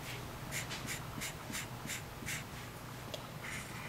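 Pen strokes on paper while drawing striped socks on a cartoon figure: a steady series of short, even scratching strokes, close and quiet, with no talking.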